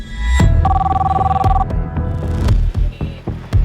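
Telephone ringing in a dramatized crime story scene, a loud electronic ring tone pulsing steadily over a low hum for about a second before cutting off amid other background sounds.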